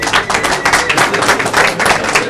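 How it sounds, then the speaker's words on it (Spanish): Crowd applause at a Colombian restaurant and grill event, a dense, steady burst of many hands clapping that fills the whole stretch without pause, loud and close. "Eso merece un aplauso."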